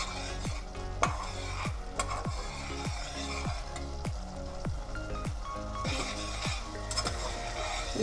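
Onion, garlic and ginger frying in oil under a soft sizzle, punctuated by a dozen or so regular, ringing spoon strikes against the pot at roughly half-second intervals, with no voices.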